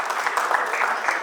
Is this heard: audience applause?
yes